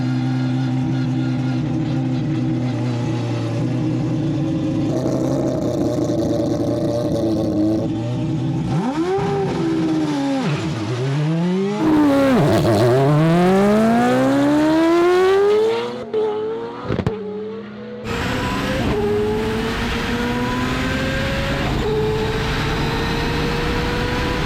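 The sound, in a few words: big-turbo 4-rotor car accelerating through gears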